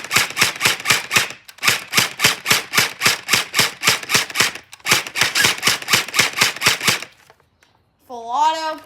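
An AGB gel blaster fires on high power full auto in three long bursts of rapid, evenly spaced snapping shots, loud and close, with a short pause between bursts and a voice speaking at the end.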